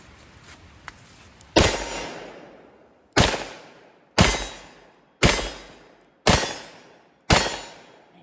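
Six loud, sharp gunshots from a stainless Smith & Wesson Model 66 .357 Magnum revolver, an ex-Indiana State Police gun, fired outdoors at steady intervals of about one second, each blast decaying quickly, with no talking.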